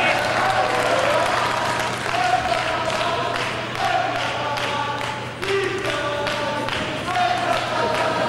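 Spectators at a badminton match cheer and clap for player Gade, a continuous roar of crowd noise with rising voices and scattered claps, close and fairly loud, while a commentator talks over it.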